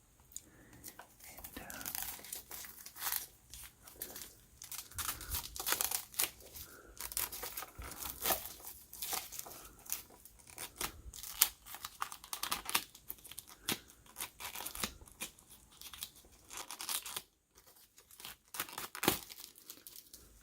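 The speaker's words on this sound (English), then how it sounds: "Do a little snipperoo with the scissors at the corner." Scissors snip at the corner of a plastic game packaging amid close, continuous crinkling and tearing of the wrapper, with quiet irregular clicks and rustles throughout.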